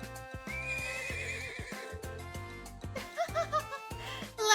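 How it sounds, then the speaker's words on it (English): A horse in the video game Trails of Cold Steel gives a loud, close whinny over rhythmic hoofbeats, with bright game music underneath and a short burst of louder sound at the end. "I'm on a horse now. Time to ride."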